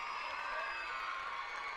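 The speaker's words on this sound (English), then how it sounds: "The crowd and her teammates love it." A gymnastics meet crowd and teammates cheer and shout after a routine, a steady, distant wash of voices and whoops that holds at an even level throughout.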